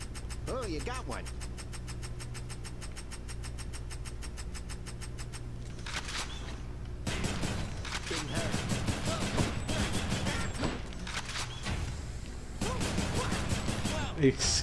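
Rapid bursts of rail gun fire in the video game Hades crackle and thump, with a fast repeating mechanical rhythm early on and loud blasts over a voice talking.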